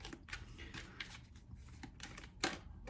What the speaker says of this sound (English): So I'm going to shuffle the cards a little bit and then draw a card in regards to love for